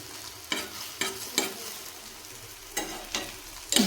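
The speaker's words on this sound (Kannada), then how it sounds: "ಈ ಥರ ನೀವು ಎಣ್ಣೆ ಹಾಕ್ತಾ ಇರಿ ಮೇಲೆ, ನೀಟಾಗಿ ಬೆನೆಯುತ್ತೆ ಇದು." Aloo snacks frying in oil in a pan over low gas, a continuous soft sizzle broken by several sharp scraping stir strokes at irregular intervals, close and without talk.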